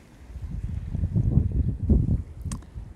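Strong wind gusts buffet outdoors, a rumbling low roar swelling and easing in waves with a brief flutter near the end.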